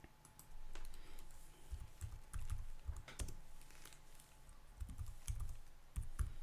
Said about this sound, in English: Let me type it in here.